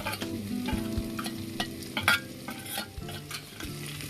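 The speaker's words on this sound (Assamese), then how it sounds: "আমাৰ পিয়াজখিনি ভজা হৈ গ'ল এতিয়া আৰু তাতে মই কাটি থোৱা জলকীয়াকেইটা দি দিম" Onions frying with chopped green chillies, turmeric and salt, stirred in a pan: steady close sizzle with repeated scraping and clinking strokes of a spoon, loud and busy throughout with no talking.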